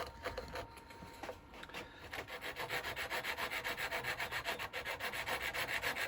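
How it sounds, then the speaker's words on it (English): Rhythmic back-and-forth strokes of a small Japanese pull saw cutting through wood, close and steady, starting with a few hesitant scrapes and building into an even, repeating rasp while turning a toothpick holder. "I do love these little Japanese pull saws."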